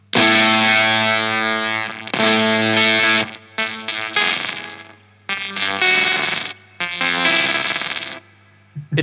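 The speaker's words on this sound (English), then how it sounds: "it's called Industrial Fuzz here on my HX Stomp. And that is how it sounds." Electric guitar through the Industrial Fuzz effect on a Line 6 HX Stomp plays sustained, buzzing chords in bursts with short gaps, thick and saturated, with no voices.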